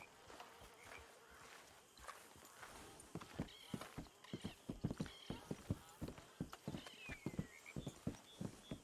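Horses clip-clop on foot in Red Dead Redemption 2, a run of distinct hoofbeats that starts sparse and grows louder and steadier, close by, with faint insect buzz in the background.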